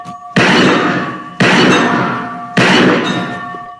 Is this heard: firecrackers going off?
yes